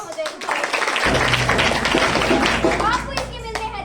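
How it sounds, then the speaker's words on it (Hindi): A school audience claps loudly at a Hindi Day short play and quiz, with dense applause bursting in after a second and continuing steadily, with children's voices mixed in. "जोरदार तालियां हो जाएंगी।"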